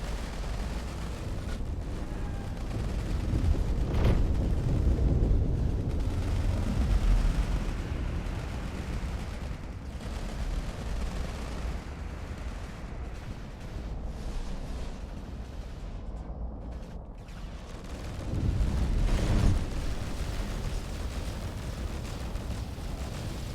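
A massive weapons barrage in the space combat game Space Engineers during a StarCore tournament PvP match: sustained rumbling explosions and heavy fire rolling continuously, swelling around a few louder bursts.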